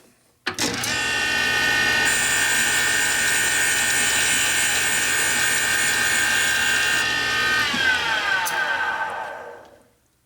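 Grinding a pit on a part from a 1983 Harley-Davidson FLTC 80ci Shovelhead engine: a power grinder spins up abruptly, holds a steady loud whine for several seconds, then winds down.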